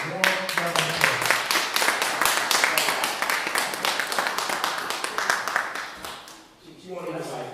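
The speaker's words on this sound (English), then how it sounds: "Please welcome her with a warm round of applause." An audience at a Kwanzaa celebration breaks into a sustained round of clapping that fills about six seconds, then tapers off as the room settles.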